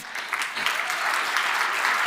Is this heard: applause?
yes